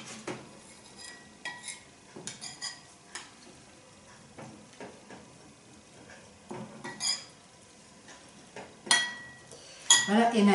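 Oat flakes are stirred with orange juice in a bowl, giving soft scraping and clinking spoon strokes in irregular bursts, growing louder near the end, with light background noise.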